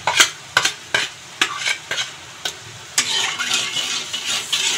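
Hilsa curry frying in a pan while water with salt, turmeric and chili powder is added, bringing sharp stirring scrapes and clatters, then a steady, close sizzle.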